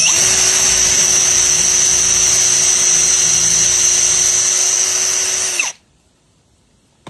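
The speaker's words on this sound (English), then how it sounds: "I drill one hole at a time and then screw in each screw" A power drill whines steadily while drilling into plastic when mounting a stingless bee hive on a star picket, a loud high-pitched continuous spin for about five and a half seconds before cutting off abruptly into near silence.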